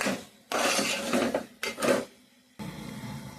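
Masala fries in a pan while a spatula stirs and scrapes it in three long, close, rasping passes against the metal, separated by brief pauses.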